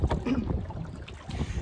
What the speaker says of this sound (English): Just check I'm not rowing into anything.